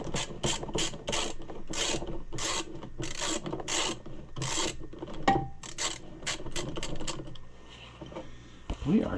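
A socket wrench ratchets on the engine mounting bolts of a Maytag engine, giving a steady run of quick clicking strokes close up, then slowing and thinning toward the end.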